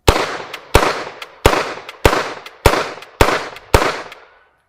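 Seven sharp gunshots at a shooting range, fired at a steady pace about every half second. Each crack is loud and close and rings out briefly before the next, with no talking.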